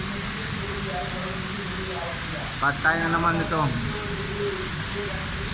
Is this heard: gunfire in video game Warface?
no